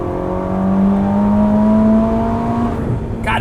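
A Ferrari SF90 Hybrid accelerates hard, a loud close engine note climbing steadily in pitch through the gears, sustained and dominant with no talk over it.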